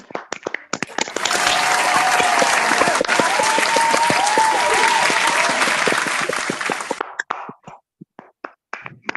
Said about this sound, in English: give a huge round of applause to Sanele for that beautiful communication